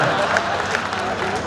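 Audience applause at a Hindi kavi sammelan poetry gathering in Budhar, a steady wash of clapping and crowd noise filling the whole moment without pause.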